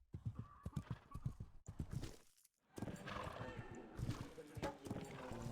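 Horse hooves in the Athens 2004 PS2 game's equestrian show-jumping event clip-clop in a quick, close rhythm, with a whinny, a brief silent gap, then more galloping and scuffling hoofbeats.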